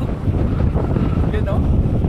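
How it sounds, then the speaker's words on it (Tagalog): Strong wind in Ilocos, near windmills, roars and buffets the microphone in loud, continuous gusts with a faint whistling edge for the whole moment. "Sumisipol yung hangin dito, guys."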